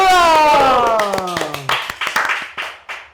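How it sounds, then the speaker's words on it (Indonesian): Studio podcast audience clapping on cue, a burst of sharp hand claps that starts after a sung jingle and fades into scattered individual claps, fairly close and loud. "Tepuk tangan dulu"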